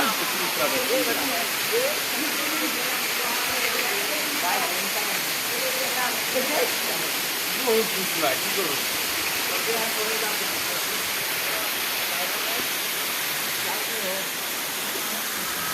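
A broad, constant rush of a hill waterfall at Sitakunda roars steadily throughout, heard nearby, with faint indistinct voices buried in the noise.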